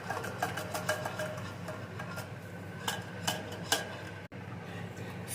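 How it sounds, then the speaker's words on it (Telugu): A spoon scrapes and taps against a bowl while homemade sponge cake batter with powdered sugar is mixed, giving soft repeated clinks and scrapes at an uneven rhythm, close and moderately quiet over a faint hum. "సో దీన్ని ఇంకా బాగా కలుపుకుందాం, ఇది ఒక థిక్ కన్సిస్టెన్సీకి వచ్చేదాకా."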